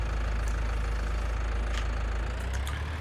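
In Farming Simulator 19, a tractor engine idles at a steady low rumble throughout, with a few faint clicks and knocks laid over the continuous drone.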